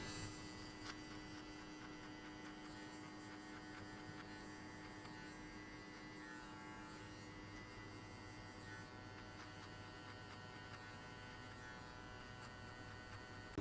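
Electric hair clipper buzzing steadily through a mid skin fade haircut at a barber chair, a faint, even hum with a few small clicks and no talk.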